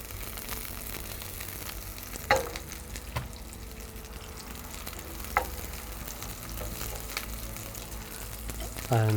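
Onions and garlic fry in a hot pan for dumplings, a steady close sizzle running throughout with a few sharp clicks of a utensil against the pan.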